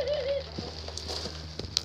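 A caged turtle dove gives a low, soft coo close by, with a few faint bird calls and light rustling around it.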